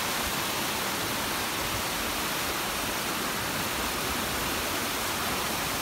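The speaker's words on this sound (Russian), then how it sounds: "Ну вот, мы подобрались к водопаду поближе." A waterfall in Yosemite National Park heard from close by: a powerful, unbroken roar of falling water that fills the whole stretch at constant loudness, with no pauses or voices.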